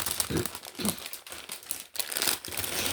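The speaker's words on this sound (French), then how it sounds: "je vais la défaire de son paquet" Close, continuous crinkling of plastic wrapping being pulled apart, with uneven rustling bursts and brief pauses.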